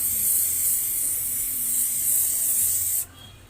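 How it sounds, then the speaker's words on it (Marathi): Hair spray from an aerosol can misted over a finished hairstyle in one steady, close hiss lasting about three seconds, then stopping abruptly. "स्प्रे मारायचा आता पूर्ण"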